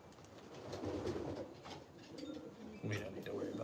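Pigeons coo softly in a loft, low murmuring calls coming and going against faint background noise and indistinct voices.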